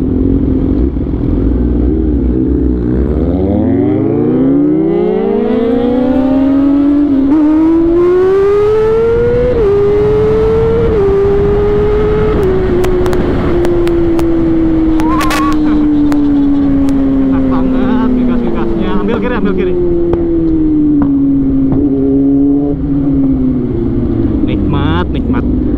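Yamaha R6 and Z1000 sport motorcycles rev hard to high RPM, engines screaming upward in rising, wavering pitch sweeps over a steady loud drone, with people talking over the noise.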